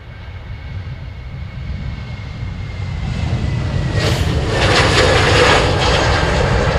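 An Airbus A380 departs a runway at Amsterdam Schiphol, its engine roar building steadily from a distant rumble to a loud, broad sustained thunder, with no talking.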